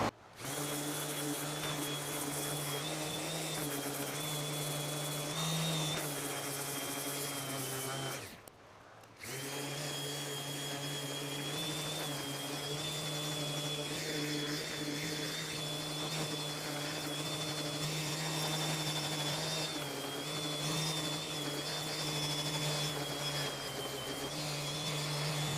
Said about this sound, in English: Sanded this bad boy down to 400 grit